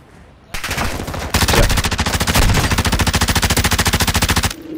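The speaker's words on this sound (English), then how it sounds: "I'm being shot by another." Rapid automatic gunfire from the Call of Duty Warzone DMZ video game rattles in long, loud bursts of evenly spaced shots after a brief quiet start, stopping abruptly near the end.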